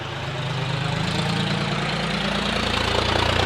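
Tractor stuck in the field with its engine running, a loud, close, steady low idle with a rough knocking pulse that swells slightly and holds without pause.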